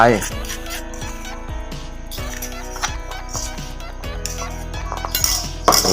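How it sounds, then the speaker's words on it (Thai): A spoon scoops a mixture into a cup, making close metallic clinks and scrapes against the cup's side while someone talks over them. "จากนั้นเราก็ตักใส่ภาชนะไว้ก่อนนะครับ ตักใส่ถ้วยไว้"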